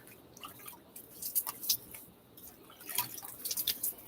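Water splashes and drips as a face is wetted with cool water before a wet shave, a run of close, irregular wet slaps and trickles with quiet pauses between.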